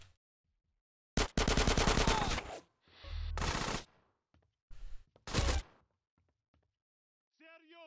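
Bursts of automatic gunfire in Grand Theft Auto San Andreas, a long rapid rattling volley followed by shorter bursts separated by silences, with a short electronic tone at the end.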